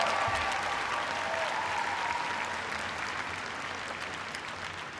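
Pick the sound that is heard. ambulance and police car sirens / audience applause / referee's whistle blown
audience applause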